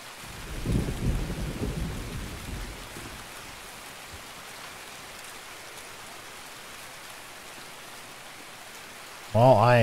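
Rain and thunder in Escape From Tarkov: a deep rolling thunder rumble in the first few seconds gives way to a steady, soft hiss of rainfall, with a short louder burst of sound right at the end.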